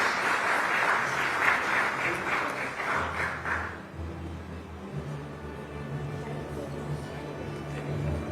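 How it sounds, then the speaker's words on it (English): A conference audience gives a panel a sustained round of applause, dense clapping that fills the room and then thins out and fades into crowd murmur and background hum. "big round of applause for this lovely panel"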